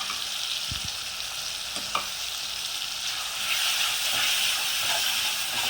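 Ginger garlic paste frying in a pan for prawn thokku, a steady close sizzle and hiss with a few light stirring scrapes, continuing evenly throughout.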